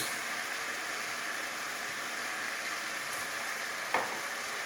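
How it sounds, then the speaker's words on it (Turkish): Minced meat and onions fry in a pan for a Turkish minced-meat pide filling, a steady close sizzle throughout, broken once near the end by a short clink of a utensil. "Kıymamızı soğanımızla beraber 2 dakika kavuruyoruz."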